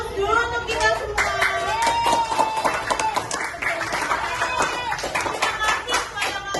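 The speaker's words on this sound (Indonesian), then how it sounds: "Untuk itu kita beri aplaus dulu untuk kita semua." A group of students in a classroom applauds, a dense patter of many hands clapping steadily and fairly close, with a voice talking over the clapping.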